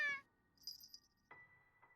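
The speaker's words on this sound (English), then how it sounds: "At my feet sits a little black kitten meowing." A small black kitten in a video game meows several times, clear, close and alone, with short bright cries and pauses between them.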